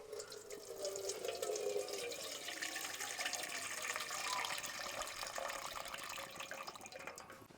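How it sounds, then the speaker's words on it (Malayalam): Water is poured from a tap into a kitchen vessel for hibiscus juice, a steady, soft splashing and trickling stream that runs continuously and fills the pot, with no talking over it. "നമുക്കൊരു പാത്രത്തിൽ കുറച്ച് വെള്ളം ഒഴിക്കാം"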